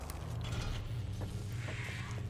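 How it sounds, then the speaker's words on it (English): Door in Resistance 3 being opened by a held button, a quiet mechanical creaking and grinding with faint ratchet-like clicks over a low steady hum, lasting a couple of seconds. "you'll come to this area where you hold square to open up the door"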